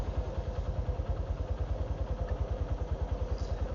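Motorcycle engine running with a steady, rapid low pulsing throb, close and fairly even, with a faint rattle over it and no voices.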